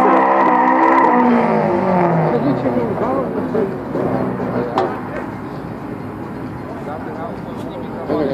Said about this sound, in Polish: tego dźwięku, słuchajcie, nie da się pomylić. To po prostu była Honda.